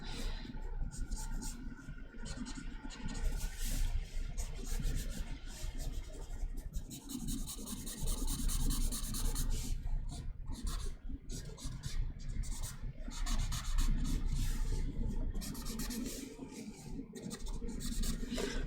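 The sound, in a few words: pencil sketching on paper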